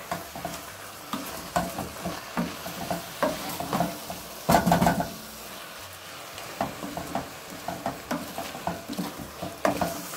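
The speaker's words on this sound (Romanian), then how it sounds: "Călim așa aproximativ 10 minute, 10-15 minute călim mărul" Apples being sautéed in a pan for an old-style apple pie filling, a steady sizzle broken by repeated spoon scrapes and clinks, close and fairly loud, with a busier burst of stirring midway and no speech.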